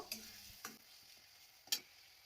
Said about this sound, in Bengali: এখন আদা রসুনের কাঁচা গন্ধ না যাওয়া অবধি আমি এটা ভালো করে পেঁয়াজের সাথে কষিয়ে নেব।